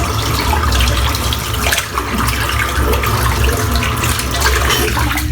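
Water runs steadily from a tap over shaving soap as it is rinsed, a constant close hiss and splash with no talk.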